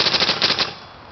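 ETEK 1 paintball marker fired on semi-automatic, uncapped: a rapid string of about eight sharp pops in quick succession, close and loud, followed by a brief fading tail.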